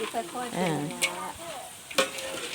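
Bananas fry in hot oil with a soft sizzle, broken by a few sharp clicks and scrapes of stirring, and a brief voice-like murmur in between.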